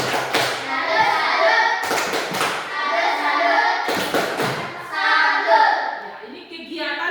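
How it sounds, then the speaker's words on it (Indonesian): A class joins in a rhythmic patterned clap, bursts of hand claps and thumps coming in rounds between children's voices and chatter, fairly loud and close. "Kita berikan tepuk salut,"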